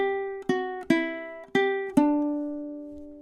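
Ukulele playing measure 18 of a song: about five plucked chords in a steady rhythm, each ringing out and decaying, close and clear with no talking.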